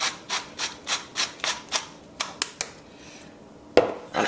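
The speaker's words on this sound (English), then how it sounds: "I'm going to crack that fresh ground black pepper in there." Fresh black pepper cracked from a grinder into a cheese paste sandwich spread: a steady run of about a dozen short, close, gritty grinding bursts, quite evenly paced, then a few sparser twists and one sharper knock near the end, no talking.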